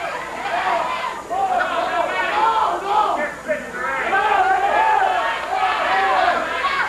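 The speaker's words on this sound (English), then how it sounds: "Crowd says, yeah, do it again" Live crowd at a 1988 CWA Memphis professional wrestling match, with Jeff Jarrett and Hector Guerrero, cheering and shouting in a continuous roar of many voices that rises and falls.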